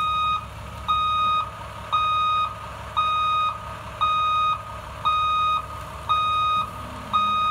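Class B school bus reversing: a loud, steady beep repeating about once per second over a low engine idle, eight or so pulses in a row.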